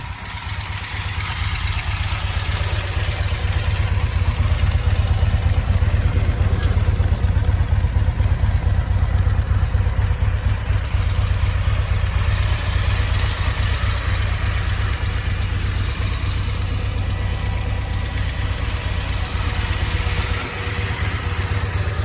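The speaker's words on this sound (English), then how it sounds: "I want to go ahead and start it up here, give you an idea of what the bike sounds like." A 2024 Harley-Davidson CVO S/T motorcycle engine idles close by with a steady, loud, low rumbling pulse that holds for the whole stretch, without any voices.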